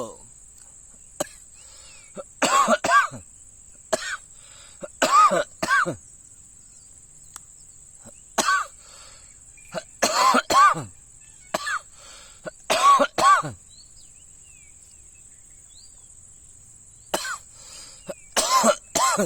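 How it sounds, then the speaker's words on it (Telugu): A man with a heavy cold coughs in repeated loud bursts, several harsh coughs in clusters separated by pauses, close to the microphone over a steady high insect-like hiss. "చాలా సర్ది దగ్గు లేచింది"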